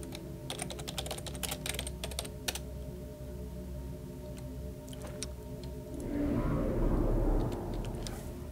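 Keys clatter on a computer keyboard in quick uneven bursts with pauses, close and clear over a steady low game hum, while notes are typed during play of Legend of Grimrock II.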